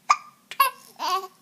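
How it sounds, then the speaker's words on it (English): A baby hiccups and giggles: a few quick, bright hiccup bursts followed by a longer babbling laugh, close and clear. "You have hiccups now too?"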